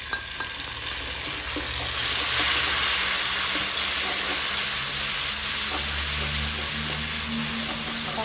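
Hot oil sizzles steadily in a pan while chili fish fries, a loud, dense, continuous crackle close by with a faint hum beneath it.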